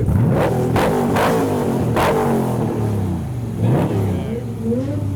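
A loud road-going Le Mans-style car with a mid-mounted LS V8 revs repeatedly in short bursts at a car meet, pitch rising and falling with each blip, close by, with voices talking over it.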